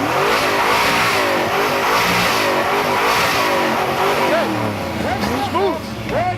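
A 1988 Ford Mustang LX convertible revs its engine at a New England car show in Ticonderoga, a loud, steady mid-pitched roar rising and falling while people talk nearby throughout.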